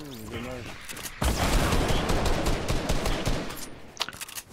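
A brief voice opens, then a sustained burst of rapid automatic gunfire fills several seconds in the video game Far Cry New Dawn, loud and dense with a few sharper cracks near the end.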